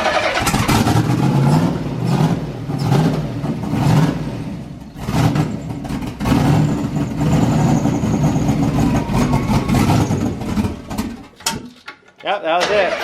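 An LSX turbo swapped Toyota Cressida starts for the first time, the engine cranking, catching and running in rough, uneven bursts of revving and idle, loud and close, while people talk nearby.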